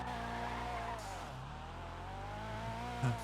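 A car in the GTA RP game, its engine holding a steady drone with a drawn-out tire squeal layered over it, loud and continuous throughout, with a short thump at the end.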